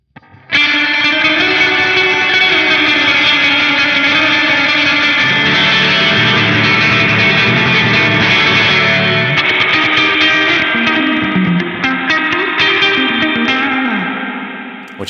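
Electric guitar played through a Fractal AX8 with reverb mix pushed to around half, giving a wet, splashy surf-style sound; sustained chords and picked lines ring out loud and continuous, washing into a long tail with no talking.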